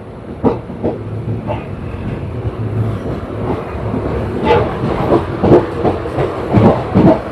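Island Express train crossing at Eraniel station on the Thiruvananthapuram–Nagercoil line, a loud close rumble with rhythmic wheel clatter over rail joints and hissing, steady throughout.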